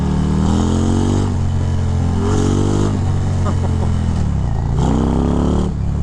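A 2023 Harley-Davidson Road Glide ST with a Stage 4 135 engine pulls hard on a test ride, its loud, close engine rising in pitch through repeated surges of acceleration, with gear changes and brief drops between the climbs.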